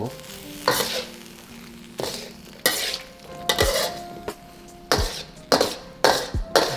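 Tomatoes stir-fried in a hot pan for an egg dish: a low sizzle under a series of loud, sharp scrapes and clanks of a spatula against the pan, about eight strokes at irregular intervals.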